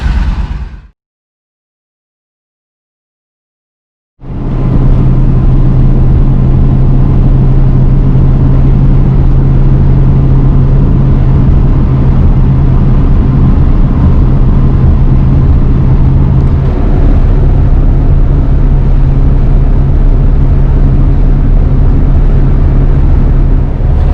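A barn-find Ford Thunderbird engine starts after a short silence and runs loud and steady with a constant low hum, idling close by with no voices.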